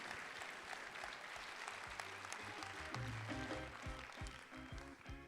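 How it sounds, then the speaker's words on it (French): An audience applauds steadily at a thesis competition final in Morocco, a faint, dense wash of clapping that carries through the whole stretch. "Je vous demande d'applaudir Madame Raja Sharqawi Morsi."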